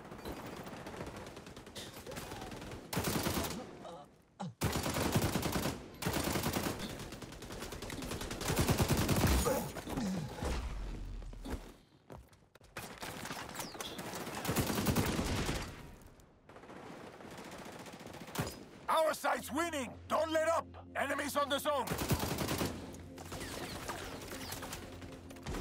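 Repeated sharp volleys of AK-47 fire in the video game XDefiant hammer out in loud bursts separated by quiet pauses, with game effects layered between and hardly any talk.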